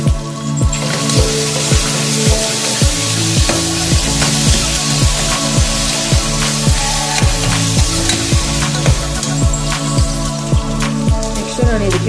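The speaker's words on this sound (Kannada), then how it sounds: "ಇದನ್ನು ಫ್ರೈ ಮಾಡ್ಕೊಂಡ್ಬಿಡೋಣ ನೆಕ್ಸ್ಟ್ ನಾನು ಇದಕ್ಕೆ ಒಂದು ಟೀ ಸ್ಪೂನಷ್ಟು ಶುಂಠಿ ಬೆಳ್ಳುಳ್ಳಿ ಪೇಸ್ಟ್ನ ಸೇರಿಸ್ಕೊತಾ ಇದ್ದೀನಿ" Soya chunk rice bath frying in a pan with ginger garlic paste: a steady loud sizzle with crackling pops, regular scraping stir strokes throughout, no voice.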